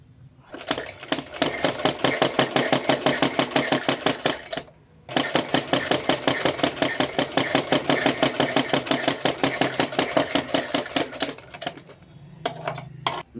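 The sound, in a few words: sewing machine stitching blouse sleeve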